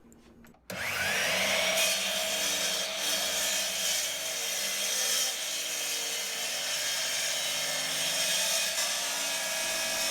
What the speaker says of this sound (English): you have to be careful when you're cross-cutting it at the miter saw so it doesn't kick back